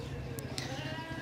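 Young goat kid of the Gulabi breed bleating at the Bhains Colony livestock market, a short nasal call over a busy low crowd murmur.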